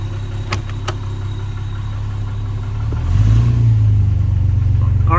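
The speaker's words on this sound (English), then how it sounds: "to do a cold start on the Jaguar Mark 9. Starts right up." A 1960 Jaguar Mark IX engine at a cold start, a low steady idle with a couple of sharp clicks early, then the engine note rises and swells louder near the end.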